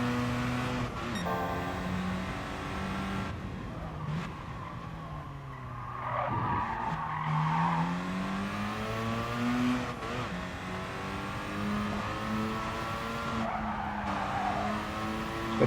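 Mazda RX-7 race car in Gran Turismo Sport, its engine droning and climbing through the revs with shifting pitch, tires squealing and skidding through corners, loud and close throughout with no talk.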